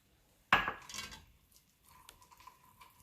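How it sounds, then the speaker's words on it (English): A metal spoon clanks hard against a pot, then scrapes and rattles as pineapple curry with chickpeas is stirred, followed by softer scraping and faint clinks; close and loud at first, then quieter. "Keep stirring."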